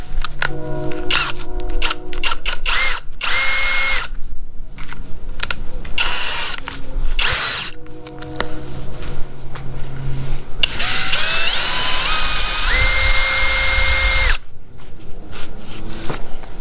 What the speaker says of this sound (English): we're gonna start with the drill here.